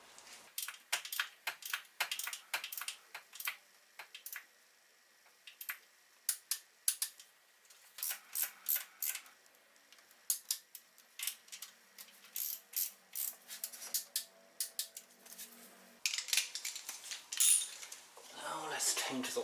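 Torque wrench tightening the oil filter housing bolts on a BMW E91, a long run of sharp metallic ratchet clicks in quick bursts with short pauses, close and crisp, with no talking.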